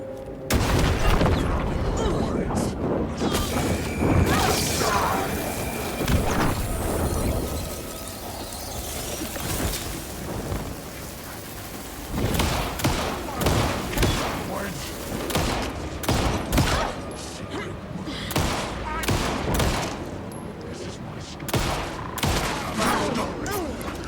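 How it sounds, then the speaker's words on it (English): A flashbang detonates amid heavy gunfire and explosive booms in the video game Alan Wake 2, with loud, dense bursts of shots and blasts continuing throughout. "that flashbang didn't do a goddamn thing"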